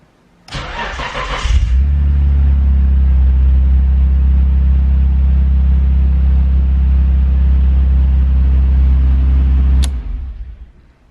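A Nissan Skyline GTR R32 fires up from a push button: a short starter whir catches into a loud, steady idle rumble held close for several seconds, then cuts off abruptly and fades.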